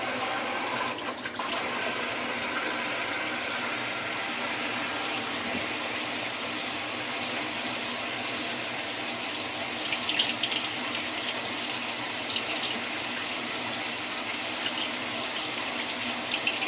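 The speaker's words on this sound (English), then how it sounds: "Fill it with water." Tap water filling a film developing tank, a steady rushing pour that runs continuously and close, with a faint knock near the start and no talking.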